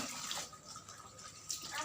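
A water tap runs steadily into a bucket, giving a continuous close hiss and splash of flowing water with no voices over it.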